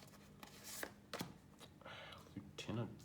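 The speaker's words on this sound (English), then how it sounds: "I like to just give them a bit of a shuffle and pick them at random" Character cards for the board game Escape the Dark Sector are shuffled by hand in soft, quick riffling bursts, close and quiet, with faint rustles and taps between them.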